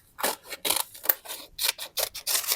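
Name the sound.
scissors cutting folded paper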